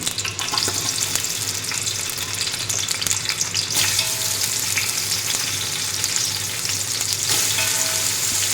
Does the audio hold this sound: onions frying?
yes